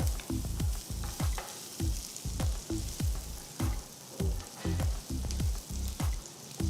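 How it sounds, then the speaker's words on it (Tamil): Three large finely chopped onions sauté in oil over a high flame, a steady close sizzle broken by rhythmic scraping stirs of a spoon in the pan, with no talking. "மூணு பெரிய வெங்காயம் பொடியாக நறுக்கினது போட்டு அடுப்பை ஹை ஃப்ளேமில் வச்சு வெங்காயத்தை வதக்குங்க"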